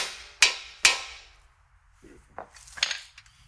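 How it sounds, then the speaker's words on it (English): Two sharp, ringing metal hammer blows strike the steel spindle of a 2019+ Ford Ranger to break loose a tapered tie rod end, followed by fainter clinks and tool handling. "take a hammer and hit the spindle to break that mating surface."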